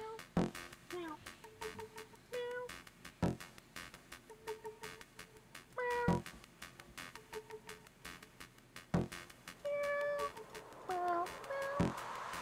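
Cats meow in the puzzle game Cats Hidden Around the World, a string of short, tonal mewing calls at intervals over a techno beat with sharp percussive hits.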